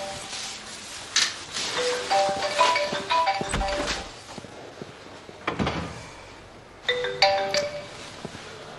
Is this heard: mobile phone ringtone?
yes